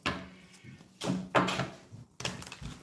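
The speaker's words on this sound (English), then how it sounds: "shut your door" Near bumps and thuds from a door being shut, heard as several distinct knocks and rattles in a quiet room.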